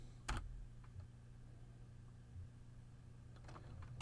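Keys tapped on a calculator or keyboard, a few quiet isolated clicks over faint steady hum, sparse and irregular with no talking.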